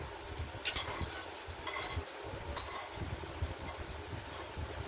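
Lentil dumplings (bori) fry in a pan to a deep red, giving a soft, continuous sizzle with faint clinks and stirring scrapes, quiet and close.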